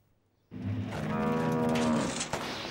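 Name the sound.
cow mooing in cartoon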